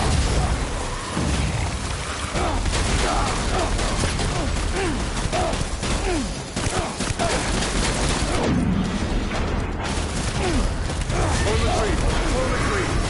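Sustained gunfire in the Death Stranding video game, dense overlapping bursts and shots throughout with mechanical clatter, while shouted voices call out over the battle.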